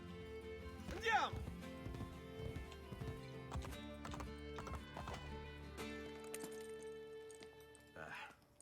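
Horses in Assassin's Creed Brotherhood clip-clop at a steady trot over hard ground, with a brief whinny early on, while voices talk over the hoofbeats.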